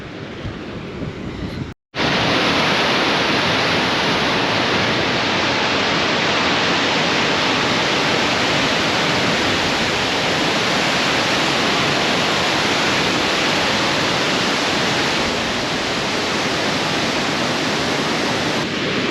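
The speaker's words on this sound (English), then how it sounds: "Oof, you can hear the roar of water." A double waterfall near Kilt Rock roars as a steady, loud, broadband rush of falling water close by, continuous throughout after a brief dropout at the start, with no talking.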